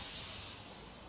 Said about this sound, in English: Finally, Edward puffed in.